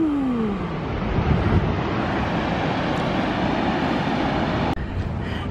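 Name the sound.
waterfall rushing water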